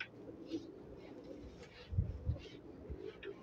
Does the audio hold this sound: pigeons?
yes